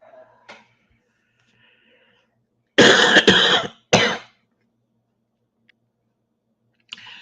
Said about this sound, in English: Still got that cough a little bit